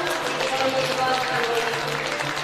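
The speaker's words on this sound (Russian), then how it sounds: "Аплодисменты." Moderate applause from an audience at a film heritage competition ceremony, an even wash of clapping throughout with a faint voice underneath.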